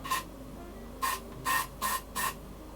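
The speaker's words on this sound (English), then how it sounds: "a little bit of hairspray is going to help to apply them, position them and hold them in place." Hairspray sprayed onto a handlebar to fit bike grips: five short, sharp aerosol hisses, one alone and then four in quicker succession, close and fairly quiet.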